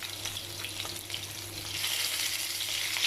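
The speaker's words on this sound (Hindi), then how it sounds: "इसी तरह से हम लोग फ्राई करेंगे" Qeema-stuffed bitter gourds (karela) sizzle steadily in hot oil, a continuous close frying crackle with a low steady hum underneath, swelling slightly louder toward the end.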